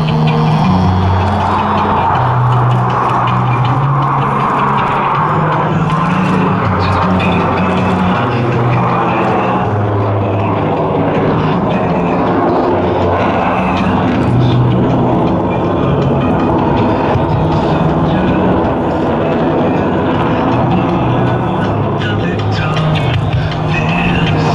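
US Navy Blue Angels jets flying a formation loop at a 2012 homecoming airshow, a loud, continuous roar of jet engines rising and falling across the whole stretch with no talk.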